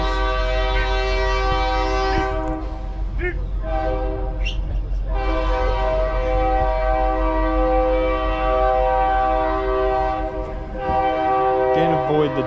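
A train horn blares loudly and steadily for several seconds over the low rumble of passing rail cars, near a car show, with faint voices in the background.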